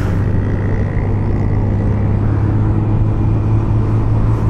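A small Honda Navi scooter's 8-horsepower engine runs at full throttle, a loud steady droning roar that holds without a break, heard close up and alone.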